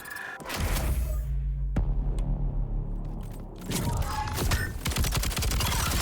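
An ignite launcher fires in the video game Voidbreaker: sharp booming blasts and crackling bursts with rumbling low tails, separated by a quieter lull, loud and close with no talking.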